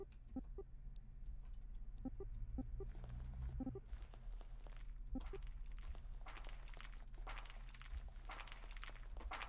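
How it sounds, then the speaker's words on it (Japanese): Footsteps in a pixel-art horror story video game: a series of soft, irregular steps and taps, first sparse and then thickening into a busier run of scuffs over low ambient game rumble, with no talk. "足音っぽい音だよね。"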